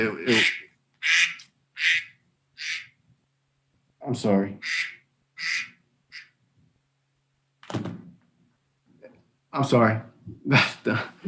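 A duck quacks loudly and close in several short bursts, separated by brief silences, at what sounds like an indoor town council meeting, with a voice speaking briefly among the quacks.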